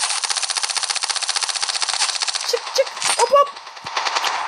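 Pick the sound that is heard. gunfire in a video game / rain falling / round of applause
gunfire in a video game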